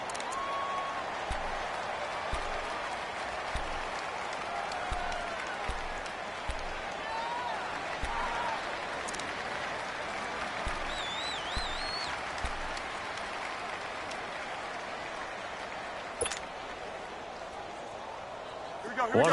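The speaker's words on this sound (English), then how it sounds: "The crowd getting into it as we come up on a big 3rd down." A steady, broad crowd roar fills an American football video game during a big third down, continuous and fairly loud, with commentary talking over it throughout.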